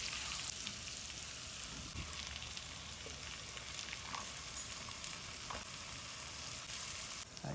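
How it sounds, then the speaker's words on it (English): Garlic frying briefly in melted butter for a creamy white-sauce pasta, a steady close crackling sizzle that holds through the whole stretch with occasional sharper pops, no talking. "I'm just going to put the garlic in, and I'm just going to slightly fry it for a couple of seconds"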